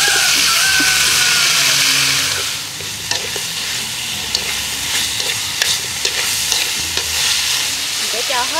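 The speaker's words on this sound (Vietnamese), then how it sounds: "cho hết cái phần ớt này vô xào luôn" Chili being stir-fried with garlic in fat in a hot wok, a loud steady sizzle with stirring scrapes and occasional clinks throughout.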